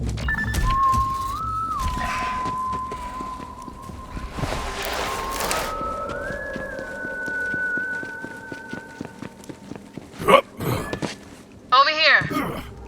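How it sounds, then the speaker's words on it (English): A clear, sustained whistled tune carries over several seconds, with a horse's hooves clopping and a voice speaking briefly near the end, in the video game Borderlands 3. "Someone whistling."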